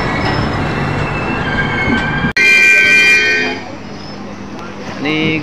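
A Ratnagiri–Diva passenger train pulls into Anjani railway station near Khed, loud and close, with a sharp horn blast, rumbling wagons and squealing wheels that ease off toward the end.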